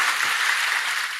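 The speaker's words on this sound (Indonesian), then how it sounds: "Berikan tepuk tangan kita untuk Tuhan kita." A church congregation at a Sunday service applauds, a brief wash of even clapping heard at a moderate distance with no voices over it.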